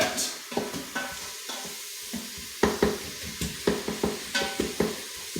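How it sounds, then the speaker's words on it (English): Onion and ground meat stirred in a frying pan, a close, rhythmic series of spatula scrapes and knocks over a light sizzle. "now let's just start stirring this up"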